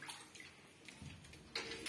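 Paddy rice seeds are washed in clean water by hand, a faint, close sloshing and pouring of water that swells louder near the end of the short stretch.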